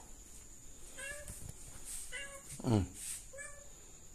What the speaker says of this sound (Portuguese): O gato feio aqui fora, ó. Tá querendo entrar no de casa